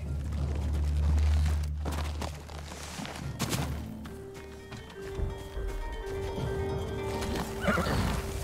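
Horses neigh and whinny loudly in Ghost of Tsushima as hooves clip-clop and gallop, with several shrill whinnies cutting through battle noise and thumps while characters call out.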